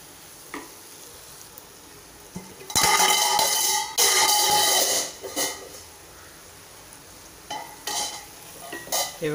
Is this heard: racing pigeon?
no